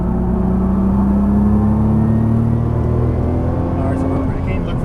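Nissan GT-R accelerating out of a corner on a track, a steady loud engine drone with a slowly rising tone, sustained under a driver's voice throughout.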